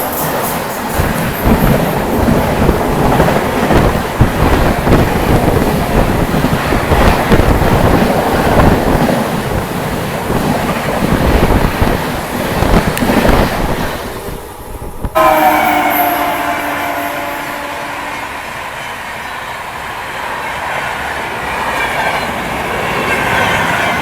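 The Patna Tejas Rajdhani express 12310 thunders past at a crossing on an Indian railway, a loud continuous roar of wheels and carriages that cuts off abruptly and gives way to a quieter rumble with a horn-like tone.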